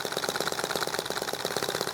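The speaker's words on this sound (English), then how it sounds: "watching this engine just run quietly for a bit" A small EM2 model engine runs quietly and evenly, a fast steady chugging pulse held close and alone for two seconds with no talk.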